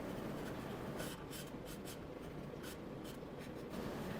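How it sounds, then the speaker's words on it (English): A pen or marker scratches across paper with quick, rhythmic back-and-forth strokes as a small section is colored black, close and quiet with no talk. "For my non-reflective surface, I'll color a small section of the paper black"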